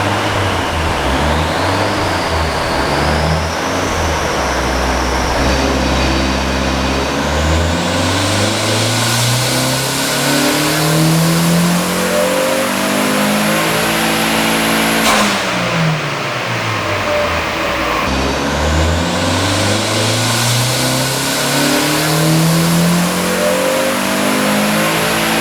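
A Mazda Miata's 1.6 liter engine revving hard on a dyno run, loud and close, pitch climbing steadily through the gears, briefly dropping at a shift, then rising again to a high scream.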